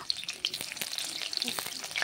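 Chopped onion frying in hot mustard oil in a wok gives a close, crackling sizzle with sharp little pops scattered throughout.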